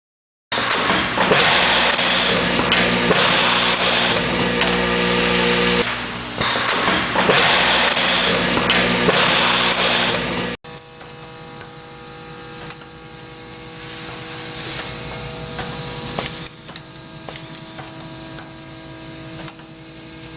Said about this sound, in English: High-cycle screw diverter used to feed screw from a feed unit into a twin or a multi-head driving system